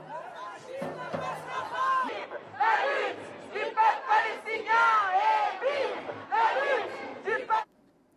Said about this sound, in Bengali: এ সময় বিক্ষোভকারীদের ইসরায়েলি হত্যাযজ্ঞের বিরুদ্ধে বিভিন্ন ধরনের স্লোগান দিতে দেখা যায়।